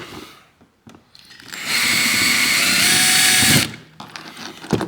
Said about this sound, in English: we're gonna have to drill out a rivet